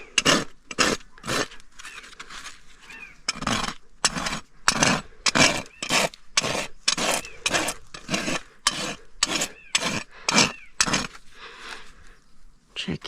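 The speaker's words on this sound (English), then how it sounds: "I'm going to come for these heels, just with the smooth side of my rasp" A hoof rasp files a horse's hoof during a trim, giving many strong, close, scraping strokes in an irregular rhythm with short pauses between them.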